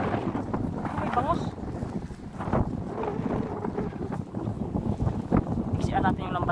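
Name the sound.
wind at sea while fishing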